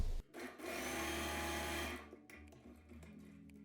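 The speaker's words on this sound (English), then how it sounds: "I always like to test a piece of fabric on my sewing machine" A sewing machine stitches a test piece of fabric for about two seconds, a fast steady whirring run that stops abruptly, followed by quieter mechanical clicks and hum.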